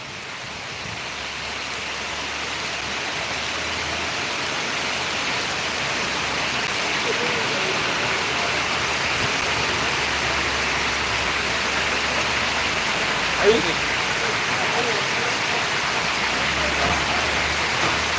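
Continuous heavy rain roars evenly throughout, a broad dense hiss with no breaks and one brief faint knock partway through.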